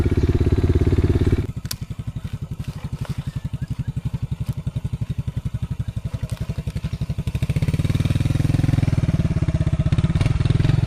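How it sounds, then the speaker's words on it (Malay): An off-road motorcycle engine on a downhill trail chugs loudly nearby with a rapid, regular thump, dropping to a lower idle before rising again toward the end. "Saya tak pasti motor Fuad boleh lepas ke tak ni."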